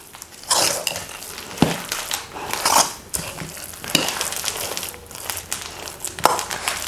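Herbal paste of ground garden herb leaves, flowers and pods being mixed by hand, giving wet squelching and crinkling sounds in irregular bursts, close and fairly loud.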